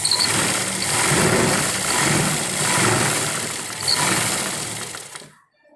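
A sewing machine runs steadily while stitching folded kurti fabric during an alteration, its dense whirring motor hum holding for about five seconds with slight swells before cutting off abruptly.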